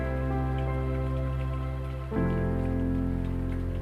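Steady light rain patters on surfaces, with a low constant hum running underneath and a slight shift in the background tone partway through.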